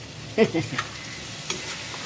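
Sweet pumpkin frying in a pan with sugar added, heard as a few close clattering stirs and scrapes in quick succession over a faint, steady sizzle, with one last sharp tap near the end.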